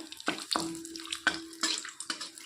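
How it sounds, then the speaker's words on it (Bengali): Dried red chillies and bay leaves fry in hot oil with intermittent sharp crackles and spits, each burst standing out against a quiet pan. "এখন তেলের মধ্যে দিয়ে দেব হচ্ছে শুকনো লঙ্কা আর তেজপাতা"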